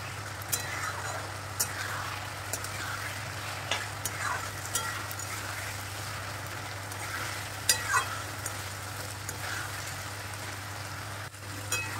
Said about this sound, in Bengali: সব কিছুর সাথে মশলাটাকে ভালোভাবে ভাজা হয়ে যাবে।